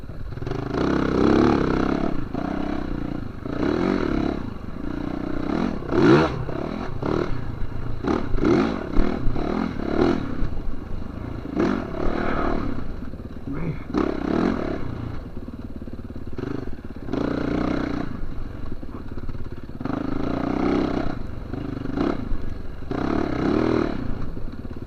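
A dirt bike ridden along the sandy Cedar Creek Trail, its engine revving loud and close in repeated surges and bogging as it pushes through deep sand in the corners, steady throughout.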